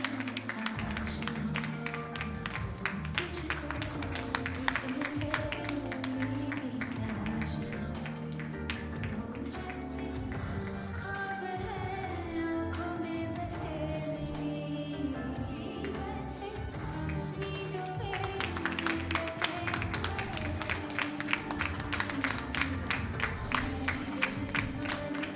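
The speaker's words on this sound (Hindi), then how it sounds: "तालियां बजती रहे." Audience applause and tapping at a reunion program for joint replacement patients, steady rhythmic clapping from a crowd sustained throughout alongside music-like tones.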